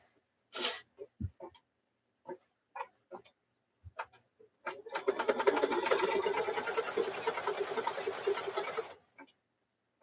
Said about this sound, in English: Stitch that one down.